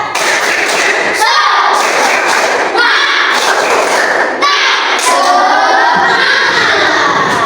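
Children perform a spirited clapping chant, shouting loudly together and landing jumps with heavy thumps in repeated bursts, with brief pauses between rounds.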